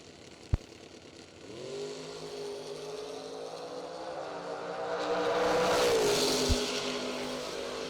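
A drag racing car revs and launches down a quarter-mile strip, its engine climbing in pitch and swelling in loudness after a sharp opening crack, heard from a distance.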